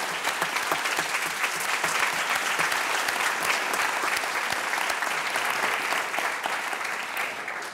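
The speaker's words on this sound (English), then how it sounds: "how about a round of applause for Ambassador Tai?" Sustained applause from a large audience at a trade policy event, dense rapid clapping that holds steady and then tapers off slightly toward the end.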